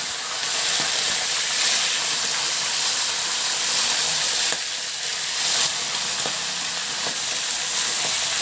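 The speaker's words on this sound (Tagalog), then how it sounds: "Bali 2 pirasong boneless bangus yan ang hiniwa ko at pipirtuhin natin" Boneless milkfish (bangus) pieces fry in a pan with a loud, continuous hissing sizzle and a bright spattering crackle that holds steady throughout. Faint knocks come from the pan, and there is no speech.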